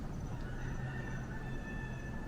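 Roosters and chickens on Oahu, Hawaii, heard as faint, distant crowing and fowl calls against a steady background hum, with no voices.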